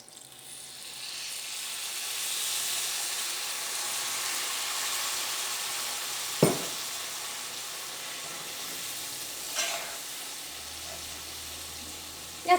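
Fried beef pickle being mixed in a pan, a soft steady sizzle with a couple of sharp utensil knocks on the pan.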